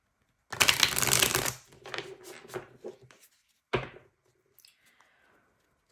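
Tarot cards being shuffled up close, a dense riffling burst followed by softer scattered card slaps and taps, then near silence.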